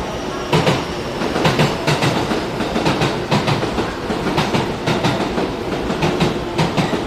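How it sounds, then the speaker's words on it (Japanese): A JR Class 221 electric local train departing Shin-Osaka Station for Osaka rumbles steadily with rhythmic clickety-clack of wheels over rail joints, loud and close, continuous throughout with no voices. "三番乗り場から普通大阪行きが発車しますドアが閉まります"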